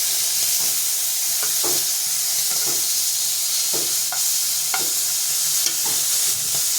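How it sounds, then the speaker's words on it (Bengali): Fish frying in oil in a pan, a steady close hiss and sizzle running throughout, with intermittent spatters and light stirring scrapes, no talking. "মাছটা ভাজা হচ্ছে"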